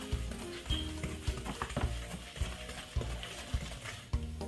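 Butter and sugar are creamed by hand with a wooden spoon in a bowl for a double sponge cake, a close rhythmic scraping and thudding about twice per second, with no speech.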